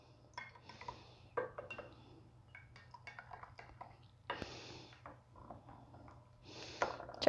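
Utensil taps and clinks against glass jars of home-canned beef broth while debubbling, a scattering of small, close chinks and scrapes with brief brighter clinks over a low steady hum.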